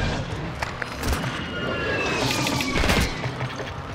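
Dense video game battle gunfire on a beach, a steady crackle of shots and booms filling the whole stretch with a few louder bursts, no voices.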